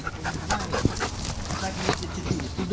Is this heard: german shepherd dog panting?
yes